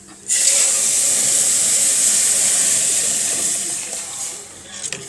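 Milk poured into a hot pan gives a loud, steady steam hiss that starts abruptly and holds for several seconds, then eases slightly with faint clatter at the end.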